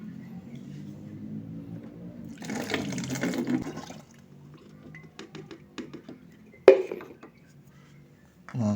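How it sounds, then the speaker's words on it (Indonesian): Fermentation liquid mixed for activating EM4 bacteria is poured into a container or jerrycan, a short splashing gush in the middle, then a sharp clatter of the vessel, fairly close. "kita tuang ke dalam wadah ya atau jerigen"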